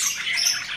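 An albino parakeet calls from high up in an aviary, giving continuous bright, chattering squawks and chirps that sound close and fairly loud, with no other voices.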